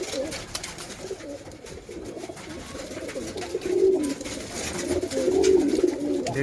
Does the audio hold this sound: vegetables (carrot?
no